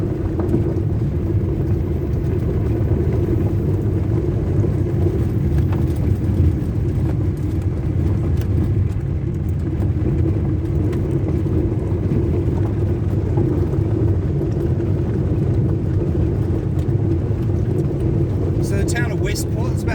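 A car drives steadily through a small New Zealand town, its engine and road noise forming a loud, constant low rumble for the whole stretch, with no breaks.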